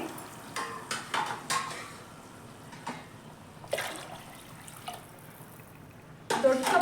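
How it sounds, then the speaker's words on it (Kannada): Hot water is poured slowly into a pan on the stove for savoury pongal, giving intermittent splashing gushes and a hiss of steam, with light clinks of utensils between bursts and a stronger pour at the end. "ಇವಾಗ ನೀರು ಹಾಕೋತಾ ಇದ್ದೀನಿ"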